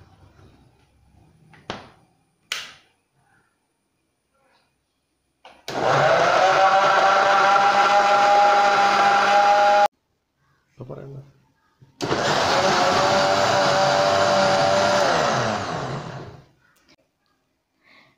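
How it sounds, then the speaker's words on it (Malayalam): An electric mixer grinder blending mango milkshake whirs loudly in two long bursts of several seconds each, separated by a pause, with clicks and a few spoken words beforehand. "ഇത് നമുക്ക് മിക്സിയിൽ വെച്ച് നന്നായിട്ടൊന്ന് അടിച്ചെടുക്കാം"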